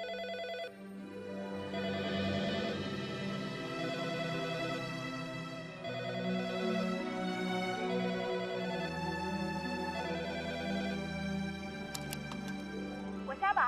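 A telephone rings on and on unanswered in a Hong Kong comedy film scene, a repeating melodic ring that carries for over ten seconds, fairly close and loud.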